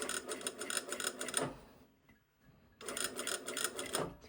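A sewing machine stitches seam allowances down to an all-in-one bodice facing, running in a fast mechanical whir for about a second and a half, stopping briefly while the fabric is pivoted, then whirring again.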